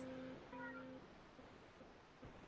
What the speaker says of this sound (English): I have a kitty that doesn't sound very happy